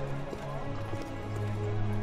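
A horse in the video game Dark Messiah of Might and Magic, soft, steady hoof clip-clops at a walk with low background hum and game ambience, fairly faint.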